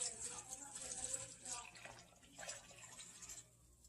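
Six cups of water poured into a pot in a home kitchen while making black-eyed peas, a steady splashing stream close by that thins out near the end.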